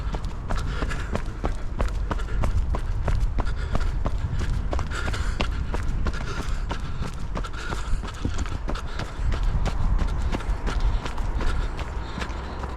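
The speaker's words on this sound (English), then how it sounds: "We can simulate wind just by going for a run." Wind buffeting a GoPro Hero 10 fitted with a Windslayer foam windscreen while the wearer runs, a steady low rumble with rhythmic footfall thumps throughout, close and continuous with no talk.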